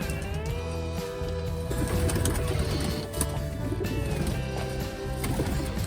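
Pigeons coo softly and repeatedly against a busy background of rustling and other bird sounds.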